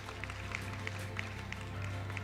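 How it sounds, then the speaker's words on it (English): A round of applause for guests arriving on stage at a digital technology forum, heard as moderate, fairly sparse clapping over a steady low hum in the room. "Let's give them a big round of applause as they came up"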